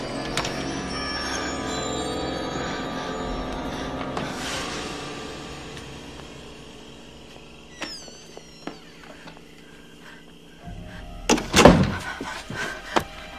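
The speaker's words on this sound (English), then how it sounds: "The calm is suddenly disturbed when the sound of the door closing potentially alerts Ghostface to Casey's location." Opening scene of the film Scream: a door shuts with a sharp wooden thud late in the passage, coming after a long tense stretch of dark ambient score and scattered small knocks and creaks, no talking.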